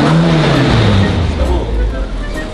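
A Tofaş Doğan SLX with right-hand drive fires up and revs, its low engine rumble loud and close, rising then settling into a rough idle, with voices in the background.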